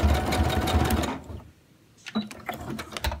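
Sewing machine stitches a Capri Sun pouch lunch bag in a steady close whir, then pauses briefly and restarts in shorter backstitch bursts.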